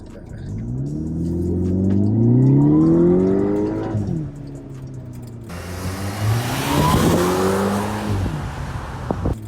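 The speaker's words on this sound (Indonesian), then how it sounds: "Itu tadi baru gigi 2 sampai 60 km per jam." A VW Golf GTI engine revs up with rising pitch as it accelerates hard in second gear to 60 km/h, drops briefly at a shift, then climbs again under a loud rumbling roar.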